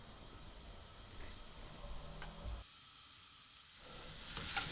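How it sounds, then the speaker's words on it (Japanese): Onions sweating gently in a pan with oil and a pinch of salt give a faint, steady low sizzle throughout, with a short quieter dip midway and a slight crackle near the end. "この時軽く塩を入れて、玉ねぎが持っている液体水分で色をつけずに火を入れていきます"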